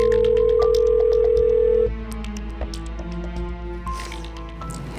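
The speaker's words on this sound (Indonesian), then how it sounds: "Gak diangkat teleponnya." A telephone rings unanswered, a steady electronic ring tone sounding clearly for about two seconds and then cutting off, leaving quieter background sounds.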